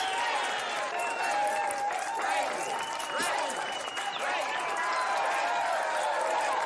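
A crowd cheers and applauds at a chili cook-off in the 1986 film Texas Chainsaw Massacre 2: dense, steady clapping mixed with whoops and shouting voices, loud and unbroken for several seconds.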